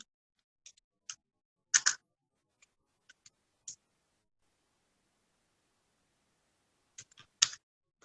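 A few quiet, sparse keystrokes on a computer keyboard, isolated clicks in small clusters separated by silence, close and soft.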